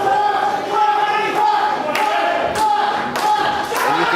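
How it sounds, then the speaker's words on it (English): A wrestling arena crowd at a live tag team match chants in rhythm, a loud massed roar of voices with a regular beat, punctuated by sharp thumps and claps. "you can hear the crowd here chanting Flash the Miracle Generation"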